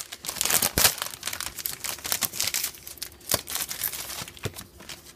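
A 2017 Upper Deck Guardians of the Galaxy Vol. 2 trading card pack wrapper is torn open close by, crinkling foil in a run of sharp rips and crackles that come alone with no voices.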